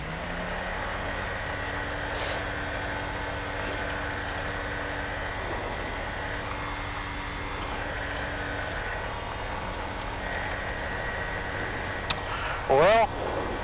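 A Quad City Challenger II light aircraft taxis on runway 14, its engine giving a steady, close, even drone throughout, with a short burst of sharper noise near the end.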